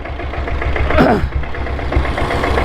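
A diesel Royal Enfield Bullet motorcycle idles up close at night, a steady low chugging thump with a brief louder rasp partway through and no speech.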